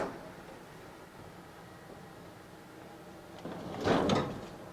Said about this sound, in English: We'll open the front door.